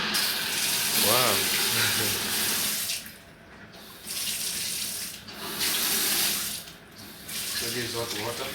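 Hot water gushes steadily from a tap into a sink, a loud continuous splashing that breaks off and restarts a few times, with brief speech heard in between.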